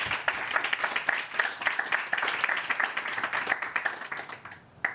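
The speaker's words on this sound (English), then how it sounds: "Would you mind to please clap for all of them and invite them on the stage?" An audience at a women's climate action panel claps for speakers invited to the stage, with brisk, steady applause from a modest crowd that thins out near the end.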